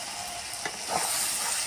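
Spiced chicken frying in a pan in a village kitchen, with a steady close sizzling hiss throughout and faint scraping as it is stirred, no voices.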